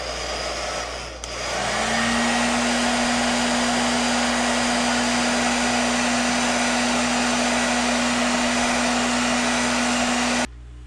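A heat gun blows steadily for about ten seconds while heat-setting paint on a chromed fishing lure blank, a loud continuous airy roar with a steady tonal hum, then it cuts off.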